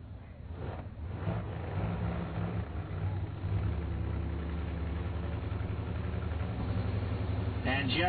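Two drag racing cars idle together at the starting line, a steady low engine rumble with a brief rise near the end, under announcer talk.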